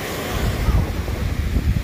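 Wind and waves on a Lake Superior beach at Park Point in Duluth in December, a constant rushing gust over the microphone with low rolling surf beneath, loud and unbroken.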